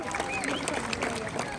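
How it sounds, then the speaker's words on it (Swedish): Applause for performers at an outdoor Midsummer Eve celebration in Stockholm, a brief dense patter of clapping from a crowd, steady and fairly close, with voices mixed in throughout. "Vi ger dem en varm applåd."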